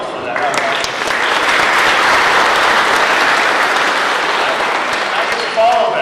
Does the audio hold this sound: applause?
yes